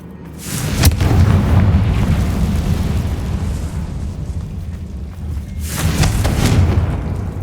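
A Confringo blasting spell in Hogwarts Legacy erupts with a loud, deep booming explosion, followed by a sustained rumbling roar and a second heavy blast near the end.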